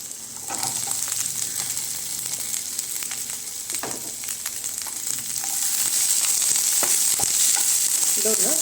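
Chopped onion frying in a pan for mushroom Manchurian, a constant close sizzle with occasional spatula scrapes and taps, growing a little louder and busier toward the end, no voices.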